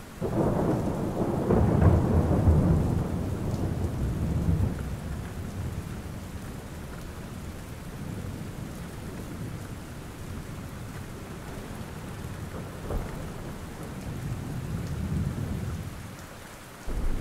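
Steady heavy rain with a deep rolling thunder rumble that swells loud at the start and then eases into a continuous downpour, with a later lesser rumble, no voices.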